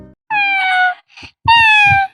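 A person on a televised singing reality show mimics a cat, voicing two drawn-out, realistic meows separated by a short breathy gap, close and clear.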